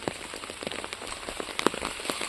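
Steady rain falls on a garden where the waterlogged soil no longer absorbs water, a dense continuous patter of drops hitting surfaces with a few louder close splashes, no voices.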